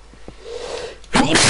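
A single sudden, loud sneeze bursts out after a second of quiet breathing and faint background noise.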